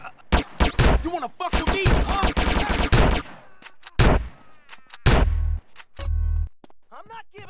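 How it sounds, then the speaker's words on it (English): Gunfire in GTA San Andreas, rapid bursts of loud shots in clusters with short pauses between them, with a voice shouting over the shooting. "I shoot you in your face."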